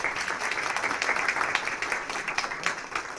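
Audience applause at a book presentation event, a dense, steady wash of many hands clapping, somewhat distant and moderate in level, continuing throughout without a break.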